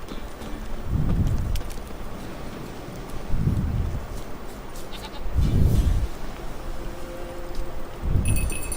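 Goats in The Witcher 3 bleat four times in evenly spaced calls, moderately loud, over faint ambient game background with soft clopping and patter.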